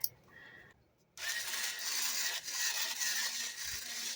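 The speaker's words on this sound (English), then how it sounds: "So I'm going to use my mixer." Electric mixer whirring steadily as it stirs mica powder into resin, starting up after a brief quiet moment and running loud and continuous close by.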